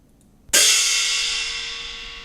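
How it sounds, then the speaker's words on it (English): A single cymbal from Jingju (Peking opera) percussion is struck once after a short silence, giving a bright, broadband crash that rings on and fades slowly, loud and alone. "This is a cymbal here. Let's listen to it."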